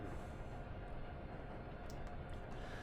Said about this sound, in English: I'm seeing if I can let the train coast down without a break.